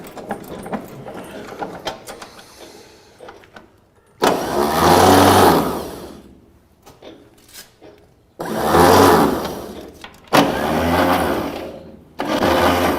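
A vehicle's starter motor cranks in loud repeated bursts as the engine tries to start, the cranking stopping and restarting several times with quieter pauses between attempts.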